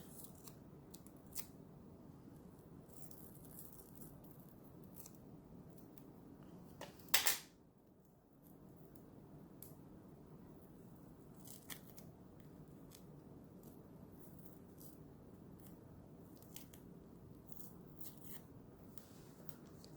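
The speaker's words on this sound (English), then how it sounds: "I'm just going to cut a piece of tearing tape in half" Scissors cut a half-inch strip of tearing tape for a handmade Mother's Day flower pot card, producing one sharp, close snip in an otherwise quiet room with faint rustling of craft materials.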